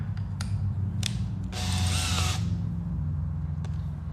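A half-inch drill/driver whirs briefly while its chuck is held to open it, a loud burst of motor whine lasting about a second amid a low background hum, with a few faint clicks before and after.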